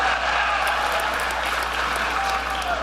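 Sustained applause from a crowd at a political speech, a dense steady wash of clapping that holds at an even level throughout with no speech above it.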